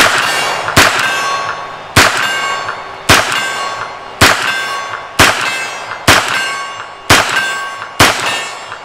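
Rounds from a CZ Scorpion EVO 3 strike steel targets: about eight sharp, evenly spaced impacts, each ringing out with a bright metallic clang that decays before the next shot, loud and with no talking.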